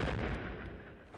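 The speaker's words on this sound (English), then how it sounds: "the Taliban are out there saying they're firing that blooming dragon gun again." Heavy gunfire from a large weapon nicknamed the dragon gun, used in a combat setting, a dense continuous roar of rapid shots rumbling at a distance, brief and unbroken with no voices.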